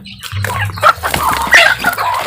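Chickens cluck and fuss close by while eagerly eating a high-protein fish-based feed, busy overlapping calls with a low rumbling hum underneath, no talking.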